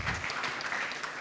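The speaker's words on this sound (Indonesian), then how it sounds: "Yang setuju berikan tepuk tangannya meriah buat Tuhan kita" Brief burst of applause from a church congregation during an online worship service, a short dense patter of clapping at moderate volume with no talk over it.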